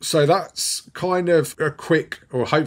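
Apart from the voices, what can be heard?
No everyday noise stands out behind the speech.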